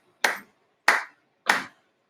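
Three sharp hand claps at a steady medium tempo, evenly spaced about two-thirds of a second apart, each crisp and close with a short decay, with silence between them and a fourth clap just starting at the end.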